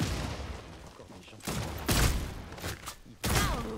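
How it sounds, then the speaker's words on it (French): A small turret popping out of a robot and firing in the vampire shooter Redfall, a few bursts of rapid shots and thuds in separate clusters, with game noise and some talk mixed in. "y'a une petite tourelle qui sort de mon robot et il tire"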